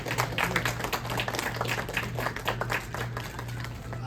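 An audience claps at a Swaminarayan satsang gathering in Calgary: a steady patter of many hands continues without a break, moderately loud, with a faint voice underneath.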